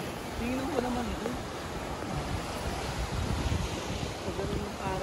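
Strong sea waves wash onto White Beach in Dasol, Pangasinan, a steady roar of surf mixed with gusting wind noise on the microphone, with faint voices drifting through.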